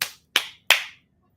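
Three sharp, separate hand claps ring out close and loud at an even pace, each decaying quickly into silence before the next.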